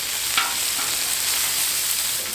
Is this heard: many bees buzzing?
no